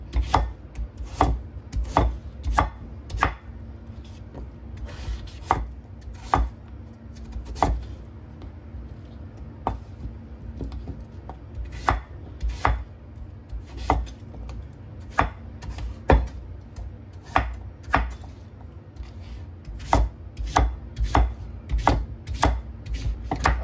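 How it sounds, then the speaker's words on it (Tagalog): Knife chopping vegetables into small pieces on a board in a home kitchen, a steady series of crisp, close, evenly spaced taps continuing throughout, with no talking. "Hiwain lang natin ito ng maliit-liit."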